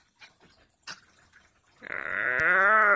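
After brief faint rustles and clicks, a dog lets out a loud, drawn-out, wavering howl-like cry imitating a dying deer, close and sustained for about a second.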